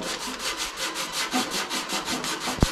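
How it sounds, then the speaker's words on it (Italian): 400-grit sandpaper rubs over a car paint repair in steady, rhythmic back-and-forth strokes, a close, even scratchy hiss with a single sharp knock near the end and no talk. "carteggiare il più possibile fino a che il danno non scompare"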